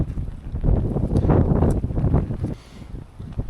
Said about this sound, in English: Once again, the wind's getting a bit fierce here.